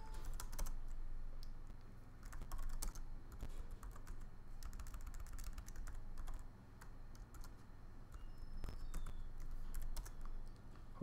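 Password being typed on a computer keyboard during Linux server configuration over SSH, with dense, continuous clattering keystrokes and a few sharper key hits, close and steady for the whole stretch without any talk.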